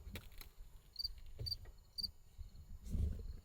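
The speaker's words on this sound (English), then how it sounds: "There's literally crickets in my truck." Steady high-pitched cricket chirps repeat in short bursts, fairly close, inside a truck in North Dakota, over a low rumbling background with a few soft knocks.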